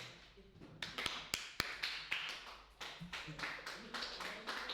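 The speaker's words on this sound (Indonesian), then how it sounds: "Tepuk tangan dulu untuk kelompok satu" A small classroom group claps for the first student group, starting sparse with a few sharp separate claps, then building into a scattered, uneven patter of hands.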